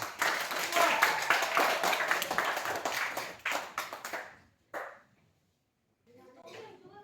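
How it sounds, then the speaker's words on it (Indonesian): Children in a Christian religious education classroom clap for a classmate, a few seconds of uneven close clapping with voices, then it breaks off into near silence before faint talk resumes. "Beri tepuk tangan buat teman kita."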